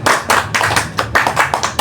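Group hand clapping during an ice-breaking clap-counting game, a steady series of loud, close claps in short bursts grouped by count, with no talk over them.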